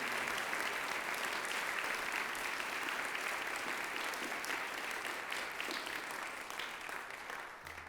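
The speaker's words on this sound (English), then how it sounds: "another round of applause for all the amazing performers" A crowd at an MLK Day celebration applauds student music performers: full, sustained clapping from a large audience, loud and even, easing slightly toward the end.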